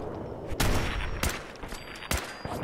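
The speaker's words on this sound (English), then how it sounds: "these guys have submachine guns, so I'm being riddled with bullets right now" Rapid bursts of submachine gun fire strike the player during a Fallout 4 firefight, several sharp volleys close and loud over a constant background din, with a few isolated cracks spaced across the stretch.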